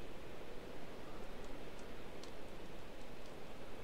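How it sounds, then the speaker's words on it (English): Steady rain falls in a Minecraft world, a soft continuous hiss of drops with faint scattered taps, holding at an even level with no voices. "hope the rain stops."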